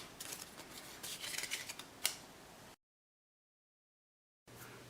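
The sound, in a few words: discarding playing cards in a board game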